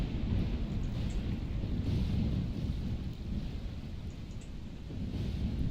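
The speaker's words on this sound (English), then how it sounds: "I don't know if you can actually hear the thunder" A low, continuous rumble of thunder rolls under the steady hiss of rain during a storm in a fantasy video game quest, sustained and heavy, with no speech.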